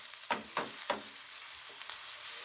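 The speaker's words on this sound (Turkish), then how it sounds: "Isınan yağın içerisine kuru soğan ilave ediyorum." Dry onions sizzle in heated oil, a continuous hiss broken by three quick scraping stirs early on and softer stirs later, close up.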